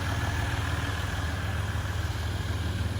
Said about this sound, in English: some of that standard sort of diesel sound